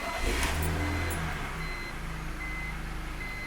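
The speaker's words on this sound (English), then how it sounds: "Let's fire it up. Hear how she sounds with that new alternator." BMW engine idling after a new alternator was fitted, a steady low mechanical hum with a faint tonal whine, moderately quiet and close, with no talking.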